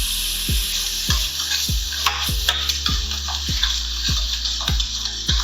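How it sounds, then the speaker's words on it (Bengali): Ginger and garlic frying in white oil with caramelized onions for a chicken ghee roast, a steady loud sizzle broken by regular stirring scrapes about every half second, no voices. "আদা রসুনের কাঁচা গন্ধটা যায় ততক্ষণ একটুখানি কষতে হবে।"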